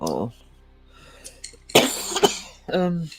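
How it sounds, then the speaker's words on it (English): A person coughs sharply a couple of times up close, between brief vocal sounds and a short spoken exclamation. "I'm just gonna mute again to cough."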